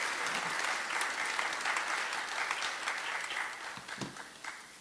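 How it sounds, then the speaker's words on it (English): An audience applauds the Cayman Islands folk singers at an arts and culture awards ceremony, a steady crowd of clapping at moderate distance that thins and fades toward the end, with a few sharper individual claps near the close. "how about a second round of applause for the Cayman Islands folk singers?"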